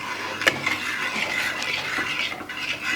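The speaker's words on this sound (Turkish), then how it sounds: "Bulgurumuzu karıştırdık." Fine bulgur is stirred through five glasses of water in a cooking pot, a soft, steady swishing and scraping of a spoon close by with one brief clink near the start.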